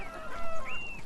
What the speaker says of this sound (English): those are chickens that they look like.